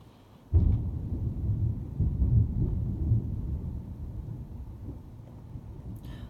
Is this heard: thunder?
yes